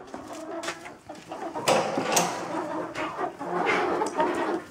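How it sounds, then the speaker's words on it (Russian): Roosters cluck and squawk nearby amid scratchy farmyard rustling, with short bursts of bird calls over a steady background. "Такие статные петухи."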